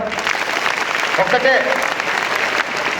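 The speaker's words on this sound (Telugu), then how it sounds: "ఒక్కసారి క్లాప్స్ కొట్టరా." Seminar audience at a Vestige leaders summit in Ibrahimpatnam breaking into loud, continuous applause from many hands, with a voice faintly audible beneath the clapping.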